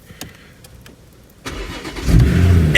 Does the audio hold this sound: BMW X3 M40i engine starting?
yes